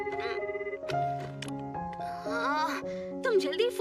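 A telephone rings in an anime scene dubbed in Hindi, a repeating electronic ring that runs behind music and voices throughout.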